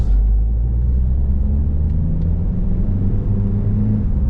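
A refitted Ford Kuga pulling out, its engine giving a steady close low rumble with a constant road drone throughout, and no voices.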